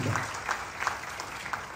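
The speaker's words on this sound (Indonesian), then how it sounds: "Beri tepuk tangan yang meriah di Allah kita." An Indonesian church congregation applauds during a sermon, a brief, moderately distant wash of clapping with a few sharper claps standing out.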